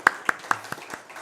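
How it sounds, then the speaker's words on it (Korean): A few sharp hand claps ring out in a church service, about five distinct claps at a steady pace, fairly quiet and fading toward the end. "박수로 한번"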